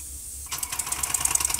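A Jensen #85 toy steam engine starts up after a steady hiss, breaking into a rapid, rhythmic mechanical clatter that quickens and grows louder, close by.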